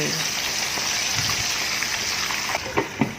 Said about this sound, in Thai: จากนั้นเราก็จะนำปลาลงไปทอดกัน